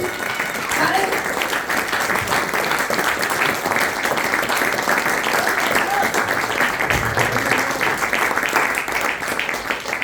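A church congregation claps for Jesus during a sermon, a sustained, dense crowd applause that keeps a steady level for about ten seconds, with faint voices mixed underneath.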